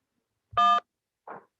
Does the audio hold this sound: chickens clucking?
no